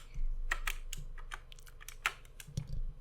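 A baby presses keys on a computer keyboard, making close, irregular bursts of clicking and tapping with brief pauses between them.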